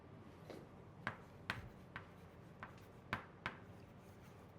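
Marker or chalk writing the English word change on a board during a Korean grammar lesson, a quiet series of sharp, irregular taps and short strokes spaced across the moment with no talking.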